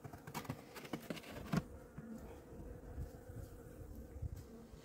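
Honeybees buzz around an open hive during a September inspection, a faint continuous droning hum with scattered soft knocks and clicks from handling the frames, no talk.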